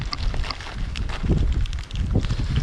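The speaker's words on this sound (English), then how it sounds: "Oh god, it's windy." Gusty wind buffets the microphone outdoors on the Isle of Wight during a bikepacking trip, a rumbling, uneven roar that swells and dips across a few seconds, with no talk.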